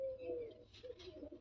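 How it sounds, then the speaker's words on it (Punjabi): Pigeons at a home loft coo softly and faintly, a low repeated throaty coo with a few light bird chirps around it. "ਕਬੂਤਰ ਹੁਣ"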